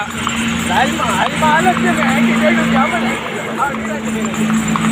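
Horse hooves clip-clop steadily nearby, with a murmur of voices and traffic noise running underneath throughout.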